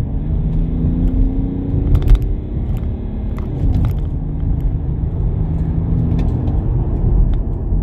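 A BMW 5 Series E61 525d diesel estate accelerating, its engine rumbling loudly and steadily from inside the cabin, with the pitch climbing and easing through gear changes over several seconds and no talk over it.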